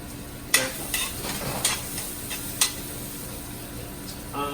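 Shallot cooking in a pan over medium heat gives a steady soft sizzle, with several sharp scrapes and clinks of a utensil stirring against the pan, close and without talk.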